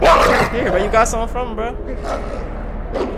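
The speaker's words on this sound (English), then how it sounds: "Where you at, doggy?" A dog in the horror video game Until Dawn gives short whining yips and barks in quick succession, mixed under a man's close-up chatter.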